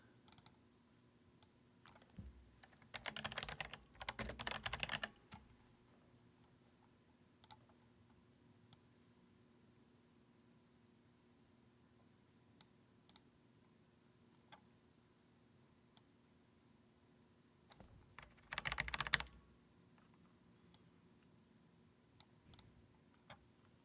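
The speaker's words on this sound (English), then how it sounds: "Apologies for my clicky keyboard." A clicky computer keyboard typed in two short, rapid bursts separated by long near-silent stretches with a faint steady hum and occasional isolated clicks, no voices.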